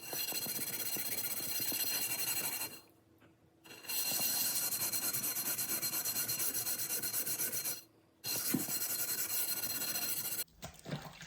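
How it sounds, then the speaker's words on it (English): Steady abrasive scrubbing of a pan with Bar Keeper's Friend cleanser, a continuous rasping rub that halts twice for short pauses before resuming, close and fairly loud with no talk. "so that was about just over 5 minutes of scrubbing"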